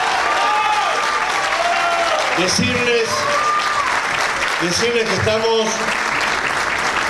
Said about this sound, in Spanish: que pido un aplauso.